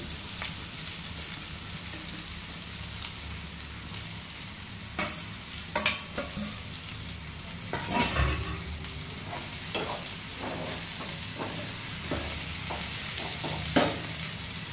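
Okra and peanuts frying with cooked tomato in a pan: a steady close sizzle throughout, broken by repeated scraping and knocking strokes as the spoon stirs, with no voices.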